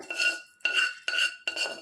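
A spoon scraping mango ginger pickle from a bowl, four distinct metallic scrapes in a regular rhythm, close and clear with no voices.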